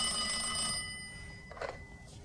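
A telephone bell rings in a quiet room, one sustained metallic ring that fades out, followed by a faint short clatter.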